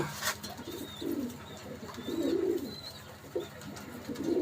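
Imported Pakistani Teddy pigeons coo softly in a loft, low murmuring calls rising and falling in several bursts over a faint steady background hum.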